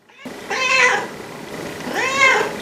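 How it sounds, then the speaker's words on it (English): A cat meows twice indoors, two drawn-out, rising-and-falling cries about a second apart, loud and close over a faint background hiss. "There's a cat in here?"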